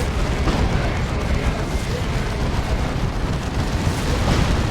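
A Stormblade super-heavy tank in Warhammer 40,000: Dawn of War 2 is destroyed amid a sustained, loud roar of explosions and battle noise that fills the whole stretch, with commentary running underneath.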